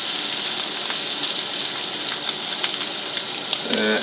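Prawns sizzle and crackle in a hot pan with a steady hiss and scattered pops, close and continuous, a brief clatter near the end.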